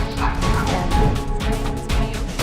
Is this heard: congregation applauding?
no